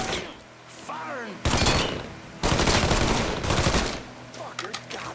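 Gunfire in the Mafia III video game, with loud bursts of rapid automatic fire in two long volleys separated by brief pauses, plus scattered shots near the end.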